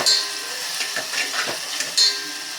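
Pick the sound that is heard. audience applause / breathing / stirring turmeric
stirring turmeric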